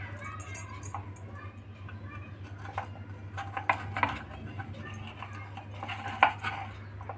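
Moong dal appe are flipped one by one in an appe pan, making light metallic clinks and taps at an irregular pace over a steady low hum, with a voice speaking at times.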